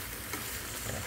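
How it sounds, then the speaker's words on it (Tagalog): Chicken liver and drumstick adobo stirred in a pan, a steady hiss and sizzle with light scraping over a short stretch, close and fairly quiet, with no talking. "tapos haluin natin para lalong sumara ang ating adobong saksak"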